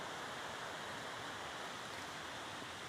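Churning, bubbling river water near waterfalls by the Château de Saillant, a steady broad rushing hiss with no pauses, moderately faint and heard alone.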